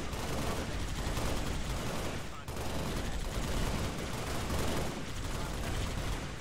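Gunfire in the video game Halo: Reach during a UNSC Marine raid on a Covenant base, with continuous dense volleys of rapid shots and distant blasts, steady and loud throughout, with faint voices.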